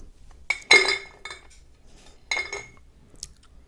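Ice cubes clink and knock against glass jars in a quiet room during tea making, in two close, sharp bursts with a faint single tink afterward.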